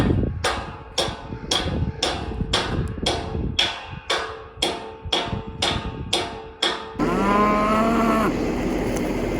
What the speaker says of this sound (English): Just doing the daily routine here. Feeding cows.